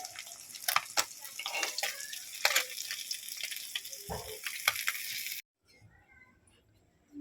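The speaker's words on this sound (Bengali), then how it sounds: "দেখুন মাছগুলো ভাজা হয়ে গেছে আমি এবারে তেল থেকে তুলে নেব" Topse fish frying in hot oil in a kadai, a steady loud sizzle and crackle with sharp spits, then abruptly cutting to near silence.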